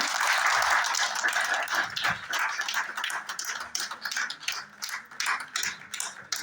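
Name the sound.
audience clapping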